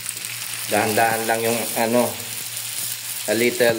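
Banana turon frying in a hot pan over medium heat gives a steady, close sizzle that runs underneath a person talking.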